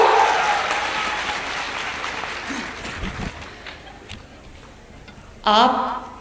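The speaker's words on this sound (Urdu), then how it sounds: "یہ تالیاں جو ہے نا وہ لڑکوں کی طرف سے زیادہ بجنی چاہیے۔" Clapping from a ceremony audience of students fills the opening seconds, loud and dense, then thins out and dies away before a voice begins speaking near the end.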